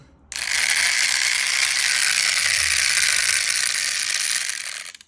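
A water-cooled tile-cutting attachment on a Sigma cutter starts abruptly and keeps up a loud, steady grinding whir for about five seconds before cutting off.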